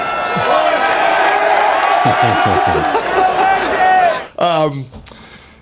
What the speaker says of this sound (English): they just began chanting and cheering